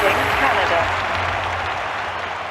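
A stadium crowd at the London 2012 Olympics applauds and cheers after an athlete's throw, a loud, dense, steady roar of clapping that eases slightly over a few seconds.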